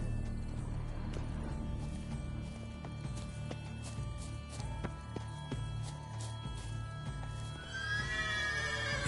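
A horse in The Witcher 3 neighs and whinnies over steady clip-clopping hooves, with game music and ambience underneath and a louder whinny near the end.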